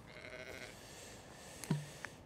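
A newborn lamb of a bare-skinned, Aberfield-type breed gives a single short, close bleat while being fed colostrum indoors, standing out against a quiet, faintly noisy shed background.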